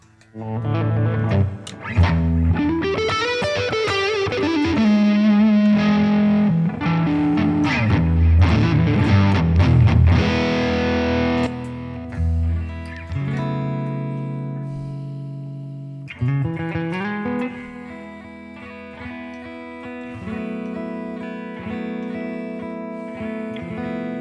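A 1977 Ibanez Les Paul with DiMarzio Super Distortion pickups, through a Vox AC30 cabinet, plays heavily distorted chords and sustained notes that ring loudly and steadily, with a brief pause near the middle before the playing resumes.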